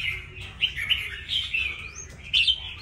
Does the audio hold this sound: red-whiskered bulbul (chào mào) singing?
yes